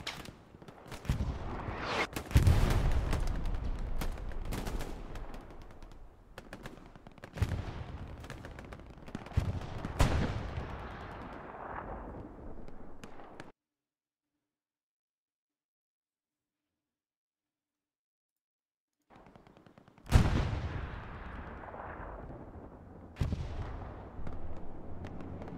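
Gunfire and explosions in the Hell Let Loose video game during a competitive match, with repeated heavy booms and rolling rattles of shots, a long silent gap midway, then more loud blasts.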